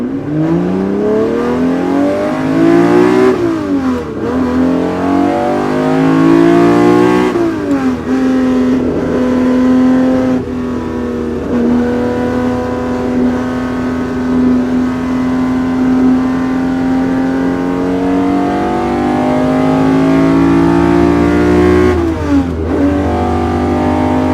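A 1950s Ferrari engine revs loud and close, dubbed in, rising in pitch, settling into a long steady drone, then climbing again before dropping near the end.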